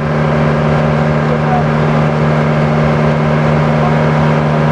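A loud, steady boat engine drones close by with a deep constant hum and no breaks, heard from sitting right on top of the motor of a fast passenger boat.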